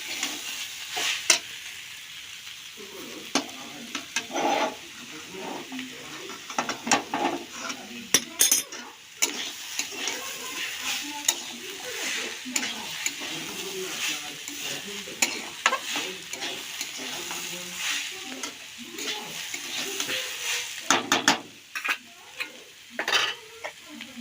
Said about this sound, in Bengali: মশলা কষা হয়ে এসছে